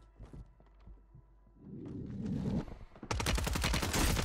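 Rapid game gunfire in Warzone on Rebirth Island, starting as scattered distant shots and swelling into a loud, dense burst of automatic fire in the last second, with no one talking.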